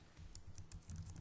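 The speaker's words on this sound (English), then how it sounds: "I'm gonna type in starter." Quiet, quick typing on a computer keyboard: a run of light key clicks in an irregular rhythm, heard close and alone.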